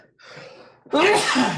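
A single loud sneeze, preceded by a sharp inhaled breath, close to the microphone.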